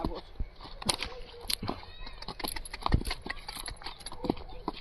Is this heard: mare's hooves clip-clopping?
yes